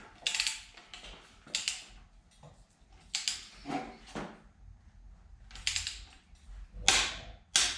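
A torque wrench ratchets as it tightens the oil pump bolts to 70 foot-pounds on a small block Chevy engine build, with repeated close bursts of clicking pawl strokes separated by short pauses, and no talk.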